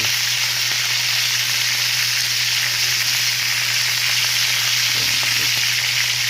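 Tulingan fish frying in hot oil, a steady dense sizzle with crackling pops running throughout, loud and close with no voices.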